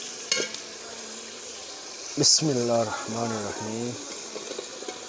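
Pumpkin dropped into frying masala in a pan gives a brief burst of sizzle under a voice, with a soft hiss of cooking continuing behind the speech.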